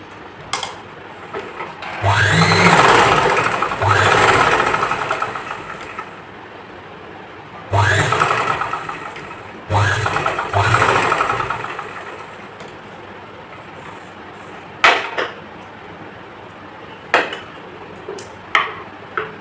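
A sewing machine running a stitch back over a blouse seam joint in a few separate bursts of fast whirring, close and loud, with short pauses and a couple of sharp clicks between them and no speech.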